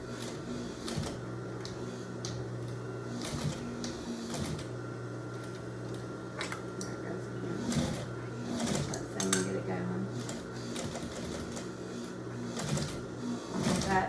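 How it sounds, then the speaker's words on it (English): A sewing machine top stitches across an apron, its motor running in a steady, continuous whir with faint ticking and clicks throughout, close by. "So I'm going to sew across here."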